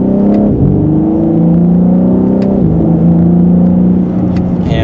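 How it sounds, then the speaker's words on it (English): A 2025 BMW M3 Competition engine pulls in second gear in Sport Plus mode under mild acceleration, a loud, close, steady droning rise in pitch with one brief dip midway. "And just a mild acceleration."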